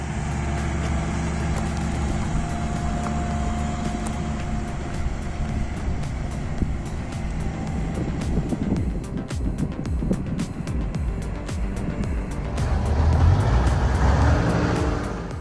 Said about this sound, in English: this Scania, with its optimized transmission, high-torque engine, and intelligent traction system, it makes steep inclines look like a casual Sunday drive